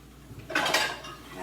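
A rinsed bowl being dried off and handled in a kitchen, a short burst of close clattering and rubbing that quickly fades.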